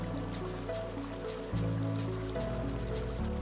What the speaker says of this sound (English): in this footage I added the water sound in post.